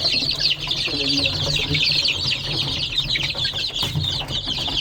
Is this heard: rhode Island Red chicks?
yes